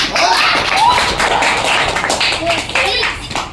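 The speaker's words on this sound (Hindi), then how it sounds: "वाह, ताली।" A class of students claps together in a classroom during a maths lesson, a dense burst of hand claps mixed with excited voices calling out.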